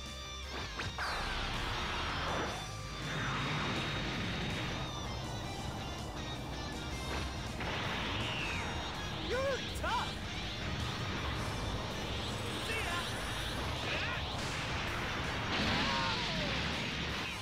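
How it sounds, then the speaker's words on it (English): Spirit Bomb ultimate attack from Dragon Ball Raging Blast 2, a long stretch of crashing impacts, energy whooshes and rising tonal sweeps, sustained and busy at moderate loudness, with a voice talking intermittently over it. "his last Spirit Bomb variation going out"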